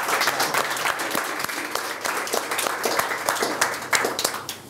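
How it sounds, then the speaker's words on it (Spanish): A lecture-hall audience applauds a professor at a debate on inequality, producing sustained, fairly loud clapping with distinct individual claps throughout. "Así que un gran aplauso para el profesor"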